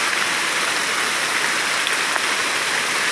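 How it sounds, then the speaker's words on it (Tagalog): Heavy rain pours on a mountain farm with banana plants, a dense, loud, unbroken hiss that stays steady throughout, with no voices. "napakalakas guys ng ulan"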